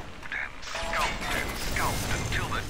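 Electro bolt zaps against a robot in the Bioshock video game, crackling electrical and mechanical clanks with rising chirps, fairly loud and continuous for a few seconds over game background.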